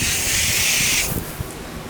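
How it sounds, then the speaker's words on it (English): Water hisses steadily from a sprayer nozzle onto the waxed paint of a 2001 Honda Prelude, a loud broadband spray that cuts off about halfway, leaving faint dripping and rustle. "Let's go ahead and spray it down, see what we got."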